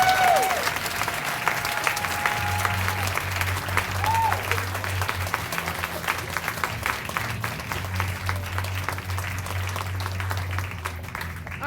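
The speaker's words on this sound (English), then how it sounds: "Keep the clapping going" A theater audience at a live monologue performance claps and applauds the performers. Crisp, dense hand claps run continuously throughout, with a low hum and brief tonal sounds underneath.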